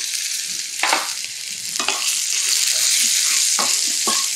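Small shallots tossed into hot oil for tempering a Chettinad okra kulambu, a loud close sizzle and hiss that swells and stays steady, broken by a few sharper spatters, with no talking.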